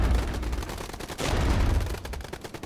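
Artillery and gunfire in a war video game: dense, rapid bursts of shots and booms close by, continuous rattling fire over the whole short stretch.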